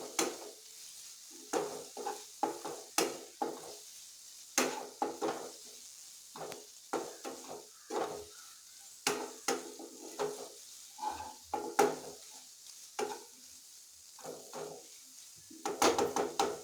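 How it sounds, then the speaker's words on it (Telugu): A spoon stirring spiced ingredients in a frying pan for homemade pasta, with a steady run of close scraping strokes and light clinks over a faint sizzle. "మళ్ళీ మిక్స్ చేయండి."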